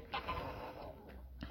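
Small chickens, including a chick, a young rooster and a hen of the Saumonais breed, give soft, close clucks in a short burst amid quiet farmyard noise.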